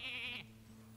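Sheep bleat from the Polymorph spell in the Hearthstone card game, a single wavering bleat lasting under half a second, loud and close, followed by quieter game background tones.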